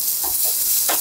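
Steak sizzles in an iron frying pan over a campfire, a steady close hiss with a few soft stirring bursts.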